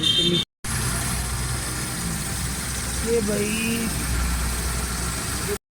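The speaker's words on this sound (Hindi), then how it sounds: "अभी गाड़ी स्टार्ट करते हैं, फिटिंग करते हैं" A 1000cc Suzuki Alto engine idles steadily and close by, a continuous low rumble with a faint mechanical whine, while someone speaks briefly over it.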